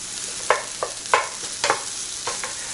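Spatula scraping through fried rice and ketchup in a hot pan for kids' omurice, four or five distinct stirring strokes at a steady rhythm over a soft sizzle, close and clear with no talking.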